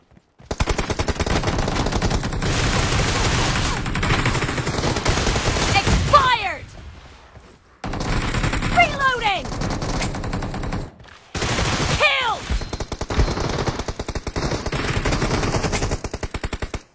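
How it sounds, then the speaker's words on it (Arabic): Groza rifle fire in PUBG Mobile rattles out in three long, loud automatic bursts separated by short pauses, with a rapid, even rhythm and no voice over it. "تعرف صوت الجروزة؟"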